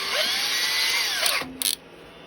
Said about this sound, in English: I'll put a little hole in for my peg.